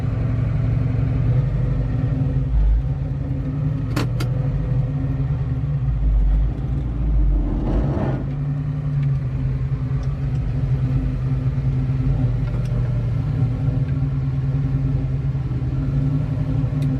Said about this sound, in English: it's a fun little car to drive